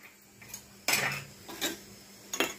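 Gujarati khakra is flipped in a lightly oiled pan, with a few sharp metallic clanks and scrapes of utensil on pan, spaced irregularly, close and fairly loud, with no talking.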